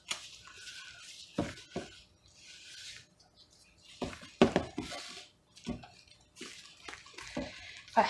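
Pumpkin recipe batter being mixed in a bowl after eggs are added, giving irregular wet scraping and clinking strokes in bursts, fairly close and moderately loud, with quiet gaps between.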